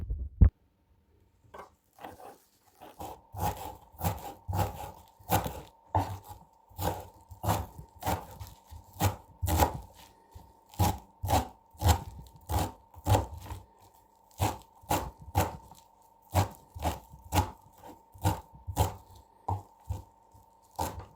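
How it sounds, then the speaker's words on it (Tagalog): A knife chops fresh parsley on a cutting board in steady, evenly spaced strikes, each a sharp, close knock repeating many times at a brisk rhythm with brief pauses. "Ikakat natin itong parsley."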